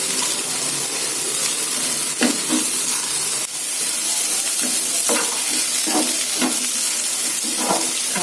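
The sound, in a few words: broccoli sautéing in pan with onion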